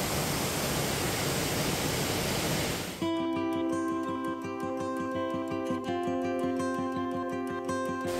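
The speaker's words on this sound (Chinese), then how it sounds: "哇，又一个瀑布，超美的" A waterfall on a mountain trail near Xiongkong South Mountain roars as loud, steady rushing water for about three seconds before music abruptly takes over.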